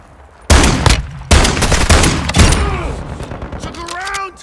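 Gunfire in Call of Duty Warzone 3 DMZ: three loud, close bursts of rapid shots in quick succession, with a radio-style voice speaking over the firing.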